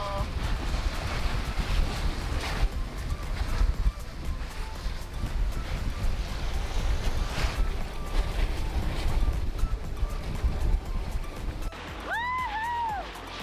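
Strong wind rushes over a sailboat under way off California, a loud continuous buffeting roar with water splashing beneath, and a voice briefly whoops near the end.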